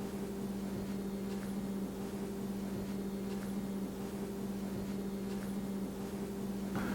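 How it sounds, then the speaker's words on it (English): A microwave oven hums steadily while heating a bowl of sugar and light corn syrup for peanut brittle, with a constant mid-pitched drone and faint clicks over broadband noise, no voices. "Now while that's in the microwave,"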